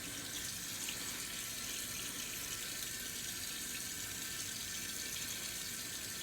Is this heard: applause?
no